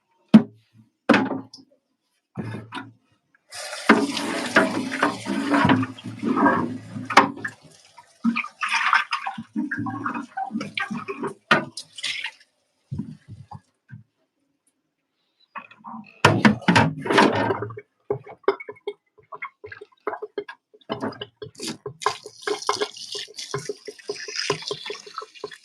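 Tap water runs in bursts while something is rinsed in a kitchen, with knocks and handling clatter between the flows and quiet pauses.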